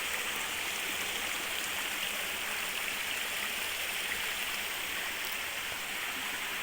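A countryside brook in a rural farm area flows in a steady, continuous rush and babble, close and evenly loud throughout with no talking.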